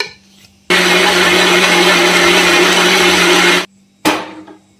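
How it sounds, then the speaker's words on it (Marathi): A kitchen mixer grinder whirs loudly and steadily for about three seconds as it grinds fasting dhokla batter with salt, then stops and gives a brief second burst. "बस ते फिरून घे मिक्सरमधून."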